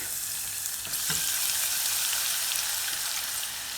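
Garlic frying in a pan for chicken korma gives a steady, bright, hissing sizzle that stays loud and even throughout, with a couple of faint stirring scrapes near the start and no voices.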